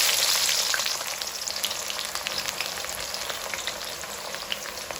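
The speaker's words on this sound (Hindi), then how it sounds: "अब इसी ऑयल में हम अपनी प्याज को फ्राई कर देते हैं" Sliced onions frying in hot oil, a loud continuous sizzle and crackle that eases slightly after the first second and holds steady to the end.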